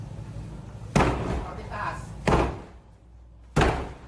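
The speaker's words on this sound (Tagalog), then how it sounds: "kaya gumamit sila ng battering ram." Three heavy, booming impacts of a battering ram against a house door during a police raid, spaced over a second apart, each followed by a brief ringing decay.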